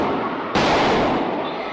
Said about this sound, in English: Gunfire interrupting a quiet church service.